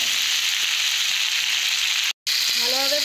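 Tomato sautéing in a pan for a vegetable curry gives a steady, dense sizzle that cuts out briefly near the end, then resumes with a faint tonal scrape.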